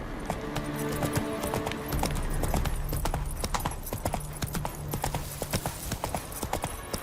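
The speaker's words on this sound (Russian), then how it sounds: "Где мой конь вороной? Погнали, нам кажется, туда." Horse hooves galloping in The Witcher 3, a rapid, steady clip-clop rhythm close up under a low whinny-like tone and game music.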